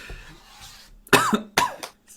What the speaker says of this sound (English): He's just coughing a little smoke inhalation.